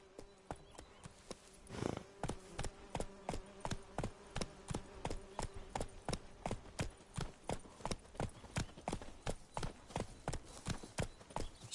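Roach, a horse in The Witcher 3, trotting with a steady, evenly spaced clip-clop of hooves, about two beats per second, close and distinct over a faint background.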